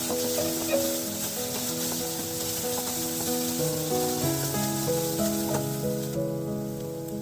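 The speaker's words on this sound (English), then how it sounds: "Now adding finely chopped onions. Saute it for a minute." Finely chopped onions sauté over a high flame for chilli paneer, a steady loud sizzle with tonal hum throughout and no voices.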